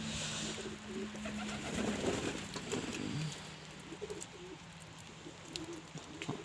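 Ornamental pigeons coo softly and repeatedly at close range, low throaty calls layered over a steady background hum.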